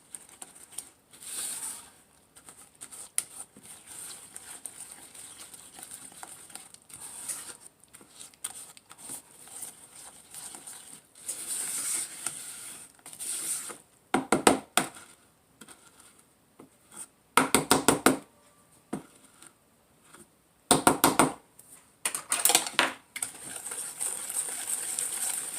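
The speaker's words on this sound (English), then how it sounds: "Now we're just going to mix this all together." Ingredients for a war cake stirred together in a bowl give intermittent soft scraping and tapping, with a few louder bursts of clattering spoon against the bowl and quiet gaps between.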